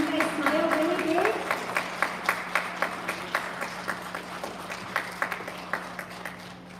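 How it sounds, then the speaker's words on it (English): Applause for elementary school special area award winners starts as a dense burst with cheering voices, then thins into a few rhythmic, evenly spaced claps that continue to the end. "can we have a big round of applause for all our special area winners?"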